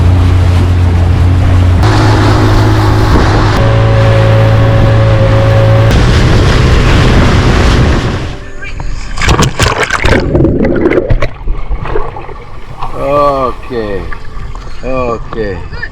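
Dive boat motoring out to the Blue Lagoon at Padang Bai, Bali, its engine a steady loud drone for about eight seconds before giving way to scattered knocks, splashes and voices.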